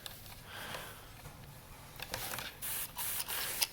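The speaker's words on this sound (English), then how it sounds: "you can kind of adjust it with the sprayer" A garden hose sprayer hisses water onto an e-bike during a wash, starting soft and diffuse, then giving several louder bursts of spray in the last second and a half, with no talk.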